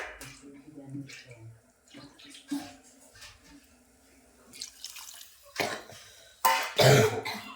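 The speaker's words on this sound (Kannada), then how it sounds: "ಇನ್ನೊಂದು ಸ್ವಲ್ಪ ನೀರು ಹಾಕೋತೀನಿ" After a quiet stretch with a cough and some faint voices, water splashes and pours into a pot in a couple of close bursts.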